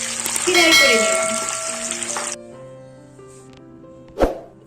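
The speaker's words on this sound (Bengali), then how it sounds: "চুলার আঁচটা মিডিয়াম এবং লোর মাঝামাঝি রেখে বার্গার স্টেকগুলো গোল্ডেন কালার করে ফ্রাই করে নিলাম" Chicken burger patties frying in a pan over medium-low heat, a broad sizzle loud at first then settling to a quieter hiss, with sustained tonal ringing throughout and a sharp clink near the end.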